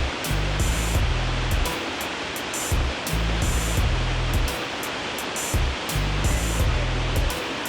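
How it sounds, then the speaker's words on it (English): Water cascades steadily over Shifen Waterfall, Taiwan's largest cascade falls, a loud, constant broadband roar, with a recurring low rhythmic pulsing sound heard beneath it. "SHIFEN Waterfall is Taiwan's largest cascade falls"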